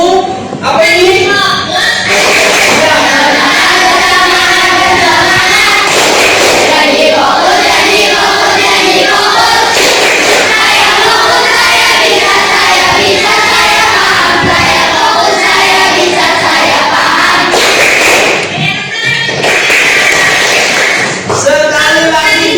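A classroom group claps and chants together in a rhythmic tepuk cheer, loud and close, with voices shouting in unison over steady clapping for most of the stretch and a brief pause near the end.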